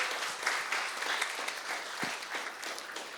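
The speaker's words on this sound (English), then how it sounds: "if we can just get a round of applause to them" Wedding reception guests at Whistle Bear Golf Club in Cambridge, Ontario break into a steady round of clapping that fills the room at an even level from start to finish.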